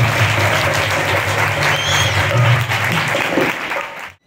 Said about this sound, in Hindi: तो आप सबकी भरपूर तालियों में श्री रवि रमेश महाराज का जन्मदिन